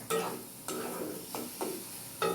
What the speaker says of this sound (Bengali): কাঁচামরিচ পেঁয়াজ রসুন একটু কষিয়ে নিচ্ছে